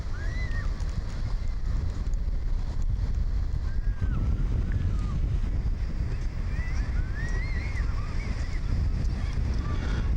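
Strong, steady wind rushes over the microphone at the shore of Port Phillip Bay in Melbourne, a constant roar with no breaks, and faint bird calls come through now and then.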